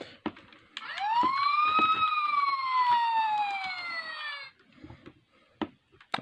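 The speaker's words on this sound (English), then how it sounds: "A short siren." An electronic siren from a Transformers Fire Convoy toy rises and wails steadily for about four seconds, then cuts off, with faint handling clicks before and after.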